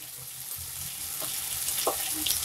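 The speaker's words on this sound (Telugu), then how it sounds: "ఈ ఉల్లిపాయలను బ్రౌన్ కలర్లో వచ్చేంత వరకు వేయించుకోవాలి." Chopped onions sizzle and fry in a pan with salt and turmeric, a steady close crackle and hiss throughout with small pops and a faint stir.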